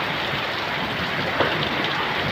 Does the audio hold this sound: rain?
yes